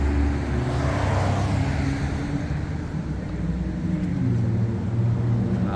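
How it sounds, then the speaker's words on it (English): An Audi A5 drives past on a village main street, a low steady engine rumble and tire roar close by, continuous over the whole stretch. "Wow, he's driving an Audi A5."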